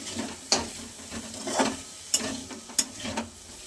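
Vegetables with tomato being stir-fried for chowmein, with repeated scraping stirs of a utensil in the pan over a soft frying sizzle, close and moderately loud, and no talking.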